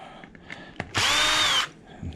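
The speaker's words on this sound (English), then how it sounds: "So what I use, a cordless drill" A cordless drill gives one short burst of whirring, about half a second long and close to the microphone, with faint handling clicks and taps before and after it.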